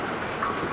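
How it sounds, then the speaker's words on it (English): A big CSX freight train rolls past close by, a steady, loud rumble of rail cars with no pauses and no talking. "huge train right there."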